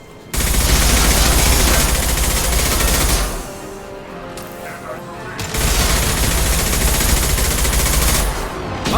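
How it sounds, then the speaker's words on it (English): Sustained high-impact gunfire in Mass Effect 2, a dense roaring barrage that runs for several seconds, drops away briefly, then resumes just as loud, with game voices mixed in. "Firing a high-impact shot!"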